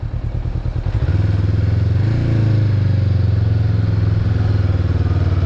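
A 2021 Honda CB500X motorcycle being ridden, its engine giving a close, steady drone that lifts in pitch as the rider accelerates and then holds a strong, even hum through the rest.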